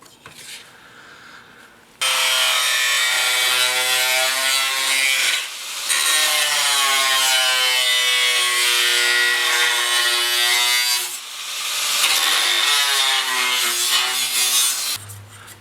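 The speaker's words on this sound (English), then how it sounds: "Transfer this over onto some 18 gauge and we're going to cut her out." A power tool cuts an 18 gauge sheet metal patch for a rust repair, a loud, close, harsh grinding whine that starts abruptly and runs steadily with two short dips in pitch and load before cutting off near the end.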